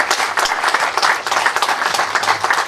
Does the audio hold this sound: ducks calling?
no